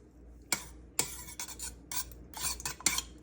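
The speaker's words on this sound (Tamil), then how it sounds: "இப்போ பாருங்க, நாங்கள் எடுத்து வச்ச ஏலக்காய் பவுடரையும் உப்பையும் இந்த பாலுக்கு போட்டு மிக்ஸ் பண்ணுவோம்." Cardamom powder and salt being stirred into milk for coconut pudding, a spoon striking and scraping the vessel in a few sharp clinks and brisk swishes, close and moderately loud, with no talking.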